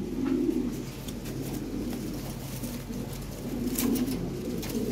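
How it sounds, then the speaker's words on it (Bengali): Farm pigeons cooing close by, with soft low throaty coos rising twice against a quiet background hiss and faint rustling. "এগুলা সব খামারের কবুতর ভাই।"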